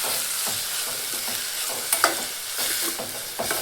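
Fenugreek leaves frying with salt in a pan for a dal, a loud steady sizzle with repeated spatula stirring strokes and a couple of sharper scrapes near the middle.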